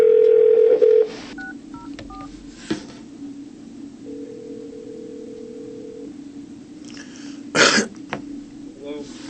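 A telephone keypad dials a call at a police station: a few short beeping tones, then a long steady tone, with a brief loud burst of noise later and low background hum.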